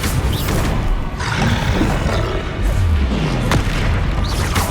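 A Bombarda spell detonating in the game Hogwarts Legacy, a loud booming blast with rumbling low-end roar amid dense, continuous combat noise and layered magical effects.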